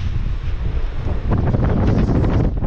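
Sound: strong wind

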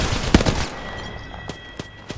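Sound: Devotion gun firing in Apex Legends, video game

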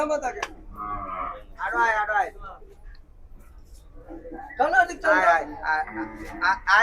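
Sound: cattle mooing at cattle market

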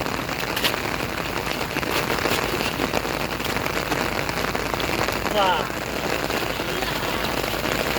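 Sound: heavy rain falling during flooding

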